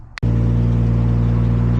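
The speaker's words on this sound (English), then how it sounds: "Supra obviously is started and running" A Toyota Supra MKIV NA-T engine cranks briefly, then catches and settles into a loud, steady idle with a throbbing low rumble close by.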